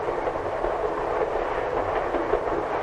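A moving passenger train gives off a steady, close rumble with a broad rushing roar and faint rhythmic rail clatter, heard from inside the cars.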